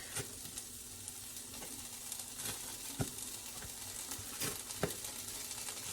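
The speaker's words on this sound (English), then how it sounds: "I'm sauteing the white onion, large white onion." Large white onion and fresh garlic sauté in a pan with a steady, moderate sizzle, broken by occasional sharp clicks and scrapes of stirring, close and with no speech.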